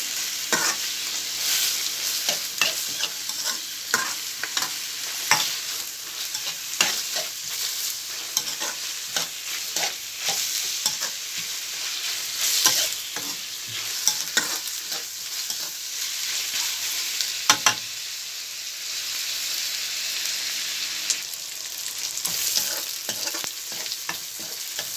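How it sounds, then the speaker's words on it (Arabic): Chicken gizzards and onion stir-fry in a hot pan with a steady bright sizzle, punctuated by intermittent scraping and stirring clicks from a utensil, close and continuous with no voices. "بصوا كده القوانص شوحت تشويحه حلوه كده مع البصلايه"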